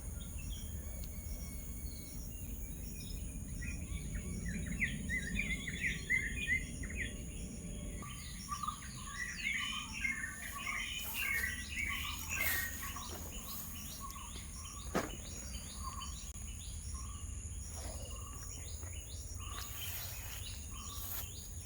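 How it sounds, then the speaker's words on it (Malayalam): Several birds chirp and call, some bursts close and some farther off, over a steady drone of insects and crickets in quiet outdoor surroundings. "ഒത്തിരി പക്ഷികളെയൊക്കെ കേൾക്കാൻ പറ്റും"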